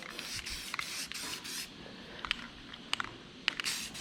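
Primer spray-painted onto a 1977 International Scout II body in short hissing bursts from an aerosol can, with gaps between strokes and a few sharp clicks; fairly quiet and close.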